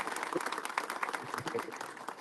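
Audience applause at a ceremony presenting new municipal service vehicles, following thanks to a board chairman; a dense, patchy clatter of many hands runs steadily throughout at moderate level.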